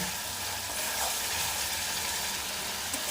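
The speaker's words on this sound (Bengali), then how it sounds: "ভেজে রাখা সবজিগুলো দিয়ে আমি ভালোভাবে মশলার সাথে কষিয়ে নেব" Vegetables such as beet, carrot, papaya and potato fry in oily spice paste for a fish curry, giving a dense, continuous sizzle close up with no talking.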